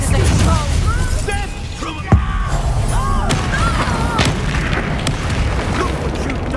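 An Expulsion spell explosion in Hogwarts Legacy, a single loud booming burst with a sharp thump amid busy combat noise, swooshing effects and voices.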